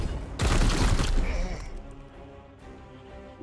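A burst of heavy gunfire in Warhammer 40,000: Chaos Gate - Daemonhunters, a loud, dense volley lasting about a second that then decays into rumbling game ambience.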